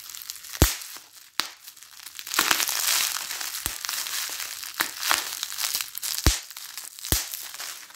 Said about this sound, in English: This thing's all bubble wrapped in. Maybe we can do some ASMR.